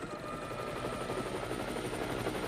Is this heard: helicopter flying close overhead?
yes